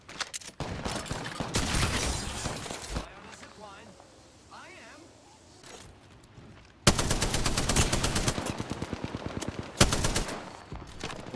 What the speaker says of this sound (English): The other team shooting us in the back from way the fuck over there.